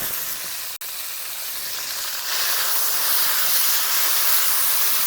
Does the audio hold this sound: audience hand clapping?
no